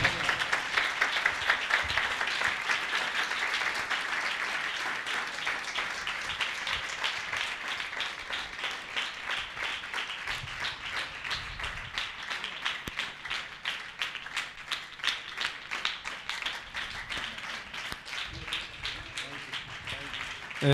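A church congregation applauds in a dense, sustained round of clapping that keeps going throughout, with a voice speaking over it at times.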